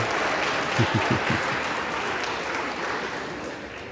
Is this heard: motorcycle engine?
no